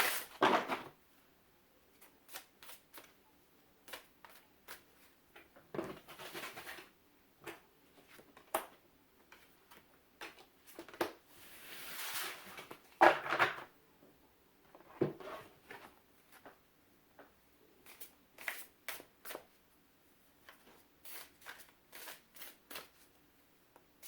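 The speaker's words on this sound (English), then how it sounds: "I can't shuffle, this is a bigger deck, I can't shuffle it like I normally would." A large tarot deck shuffled by hand: soft, irregular bursts of card riffling and slapping, with quiet pauses between them, close by and faint.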